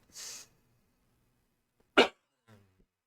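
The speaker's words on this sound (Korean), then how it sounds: "죄송합니다. 자꾸 기침이 나서." A short raspy cough, then a sharp, louder burst about two seconds later and a faint trailing one, close to the mic with no talking.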